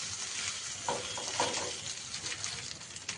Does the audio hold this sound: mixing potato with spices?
yes